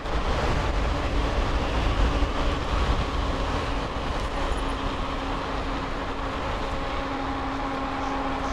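Steady, loud wind roar buffets the microphone throughout while riding an e-bike on a spring ride, a constant broadband rush with no talking.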